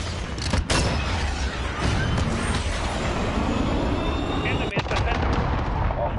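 An artillery strike in the Modern Warfare video game lands as a rolling barrage, with several sharp booming impacts over continuous heavy rumbling and crackle.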